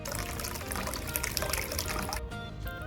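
Water splashes and trickles steadily as freshly picked tulsi (holy basil) leaves are washed, a close, continuous running-water sound with a brief pause near the end and no talk.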